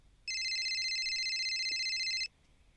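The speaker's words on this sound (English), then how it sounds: "So let's just see if they answer the phone." A phone line rings out to a hotline: one steady electronic ring tone lasting about two seconds, clear and isolated against quiet background hiss.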